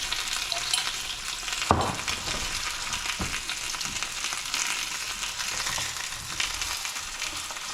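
Pork chops topped with French mustard frying and caramelizing in a pan, a constant close sizzle with a few sharper spatters and pops, no talking.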